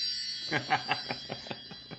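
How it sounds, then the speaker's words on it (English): A quick run of about eight bright bell-like chimes plays as a congratulatory sound effect, with the tones evenly spaced and fading slightly toward the end over a faint steady tone. "I'm going to bring in the chimes on that one"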